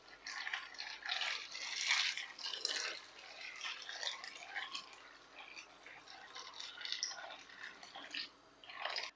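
Water pours and splashes into a pot holding dry pasta with a little oil and salt, a steady broadband gush with drips running for about nine seconds, fairly close and with no talking.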